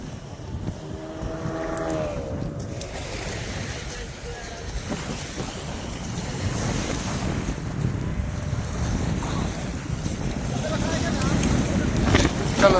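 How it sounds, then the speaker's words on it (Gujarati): Sea waves at Shivrajpur beach near Dwarka, a broad rushing wash of surf mixed with heavy wind noise that grows louder toward the end, with voices talking early on. "બહુ મસ્ત દરિયાનું લોકેશન છે આ છે શિવરાજપુર બીચ"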